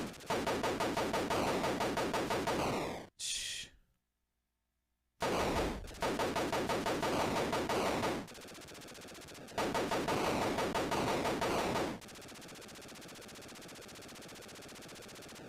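Rapid electronic gunfire from the Atari 2600 game Chopper Command, heard as dense, loud bursts of repeated shots with no voices. A brief silence breaks it early on, then the shooting returns in several stretches.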